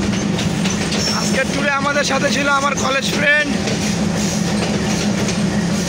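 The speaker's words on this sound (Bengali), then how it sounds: "আজকের লোকোটা হইতেছে আপনার 6532 WDM3" A WDM3 diesel locomotive hauls the Titumir Express on metre- and broad-gauge rails at Parbatipur Junction, Bangladesh, a steady loud rumble of running train heard throughout, with people talking over it.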